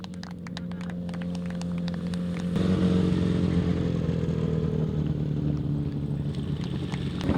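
1000cc sidecar motorcycles racing on a grasstrack at a Champion of Champions meeting, engines droning loud and steady, swelling as machines pass close by, with clattering bursts early on and no talk.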